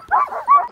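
A sled dog lets out a short, close yelp, a couple of quick whining barks under a second long, during a dogsled outing in Alaska or the Yukon.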